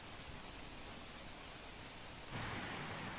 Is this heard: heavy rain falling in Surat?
yes